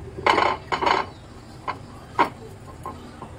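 Oil being brushed into the cups of a metal appe pan: four or five short, close scraping clinks come in uneven taps with quiet pauses between them.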